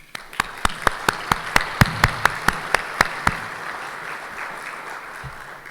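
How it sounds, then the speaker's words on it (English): Hands clap in a steady rhythm, a dozen or so crisp claps from a small group at a luncheon, fading into a murmuring room. "Let me give them a quick hand of applause."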